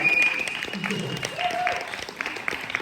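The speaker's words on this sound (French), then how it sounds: "mesdames et messieurs, on peut applaudir bien fort" An audience applauds at a French business workshop bootcamp, clapping that fades under a speaker's voice and other room sounds, with talk over it.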